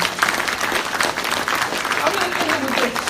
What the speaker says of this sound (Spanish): un aplauso a él si te lo vas a dar